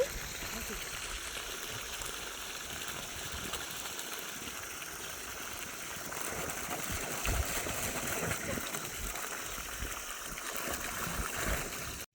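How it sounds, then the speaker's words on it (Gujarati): Water runs steadily from a tap or pipe at a farm as hands are washed, a continuous close splashing rush that stays even throughout. "ચલો ના હેન્ડ વોશ કરી લઈએ"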